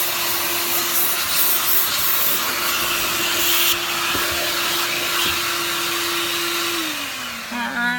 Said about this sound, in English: So vacuum it up.